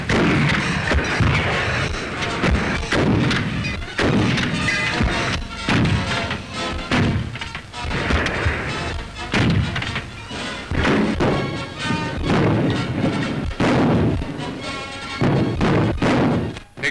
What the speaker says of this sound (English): Some of the workers had a go at firing the anti-tank guns and found them quite satisfactory.